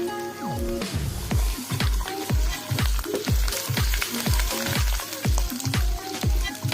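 Spice paste for a fish curry with yam frying in a pan after salt and turmeric are added, a loud crackling sizzle broken by a regular series of scraping stirs.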